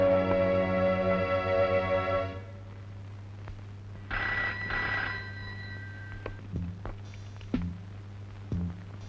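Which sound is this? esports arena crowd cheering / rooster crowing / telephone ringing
telephone ringing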